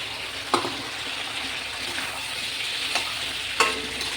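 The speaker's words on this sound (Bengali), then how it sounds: "দিয়ে এবার আমি সুন্দর মতো কষাবো।" Chicken with ground spice paste being stirred and fried in oil, a steady close sizzle with a few sharp scraping stirs of the spoon against the pan.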